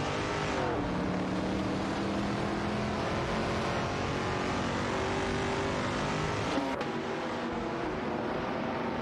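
Fiat 131 Abarth race cars compete on a track in a simulated race, engines droning steadily with a shifting pitch and a brief surge as a car sweeps past.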